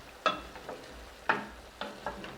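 Mongolian beef being stir-fried with spring onion greens: a few sharp scraping tosses in the pan over a soft background sizzle, close by.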